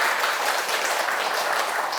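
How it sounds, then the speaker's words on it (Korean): An audience claps steadily at a Buddhist temple talk at Gwangryunsa, a dense, even patter of many hands filling the room without any speech. "그래서 박수 한번 칠까요?"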